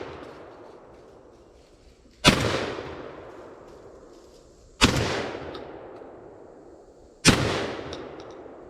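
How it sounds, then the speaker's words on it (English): A mid-1930s Savage automatic shotgun fires three heavy, booming shots spaced a couple of seconds apart, each followed by a long rumbling echo, close and loud. "We got 4 shots."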